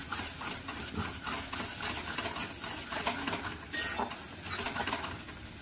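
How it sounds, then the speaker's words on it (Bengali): Sour yogurt being stirred into palak paneer in a pan, a continuous soft scraping and mixing with light sizzling underneath, quiet and close, no talk. "টক দইটা দিয়েও ভালো করে মিশিয়ে নিতে হবে।"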